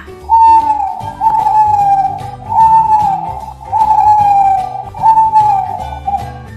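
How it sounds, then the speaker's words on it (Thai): An owl calls five times in a steady rhythm, each hoot a clear falling tone, over a soft pulsing backdrop. "นกฮูก"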